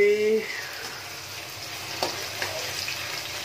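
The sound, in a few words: potatoes frying in oil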